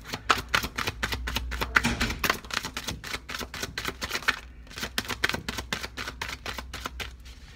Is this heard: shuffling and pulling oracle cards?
yes